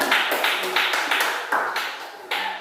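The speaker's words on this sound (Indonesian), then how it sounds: "Kita berikan tepuk tangan untuk pemirsa." A small classroom group claps in a few separate bursts, sharp flat hand claps coming in short rhythmic clusters, close and fairly loud, with no talking between them.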